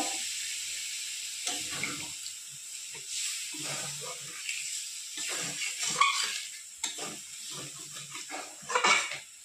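Water from a spice-rinsing bowl poured into a pan of sautéed soybean and potato curry, giving a splashing, hissing sizzle in uneven surges that swell and fade over several seconds, close and moderately loud.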